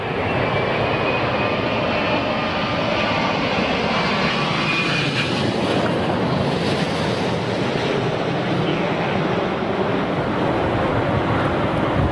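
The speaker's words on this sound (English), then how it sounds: "Oh no, it's the Dreamliner, man. BA Dreamliner." A British Airways Boeing 787 Dreamliner lands at London Heathrow in storm-force wind, its engines a loud, steady roar. Heavy gusts buffet the microphone throughout.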